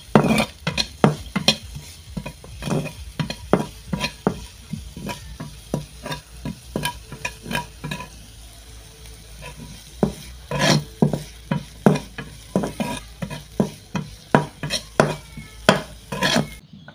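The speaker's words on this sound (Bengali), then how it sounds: "চুলায় একটি কড়াই বসিয়ে 1 চা চামচ তেল, 1 চা চামচ রসুন কুচি, 2 চা চামচ পেঁয়াজ কুচি, 2টা কাঁচামরিচ কুচি এগুলোকে কিছুক্ষণ ভেজে নিব।" Garlic, onion and green chili fry in oil in a wok under a soft sizzle, while a spatula scrapes and taps against the pan again and again in an uneven rhythm.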